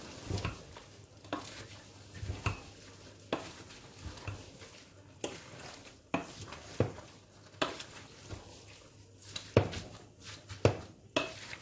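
A spoon stirring chopped celery and vegetables in a pot for chicken cacciatore, with repeated scraping strokes at an uneven pace over a soft sizzle and close clinks against the pot.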